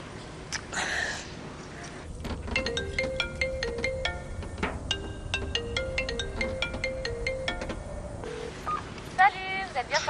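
A mobile phone sounds a series of dialing tones followed by a repeating ring tone, heard at moderate level indoors with faint background noise.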